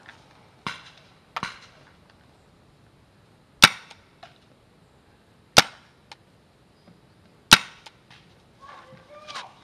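Paintball markers fire during an outdoor paintball game, giving several sharp isolated pops spaced a second or two apart, close and loud, with brief voices between shots.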